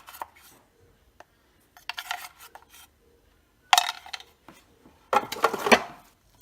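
Pork and chive dumpling filling being mixed in a bowl: intermittent wet scraping and rubbing bursts, separated by quiet pauses, heard up close.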